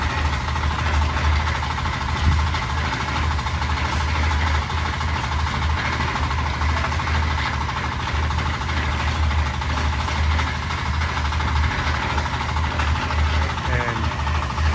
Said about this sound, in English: they're getting a vibrator right now and vibrate the beam